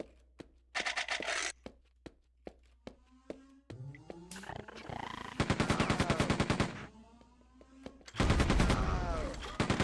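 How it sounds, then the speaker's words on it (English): Machine gun fire in a video game, heard as several rapid bursts of loud, sharp shots separated by shorter single pops, with the longest sustained bursts coming near the end. "Ooh, is that a new gun? Machine gun."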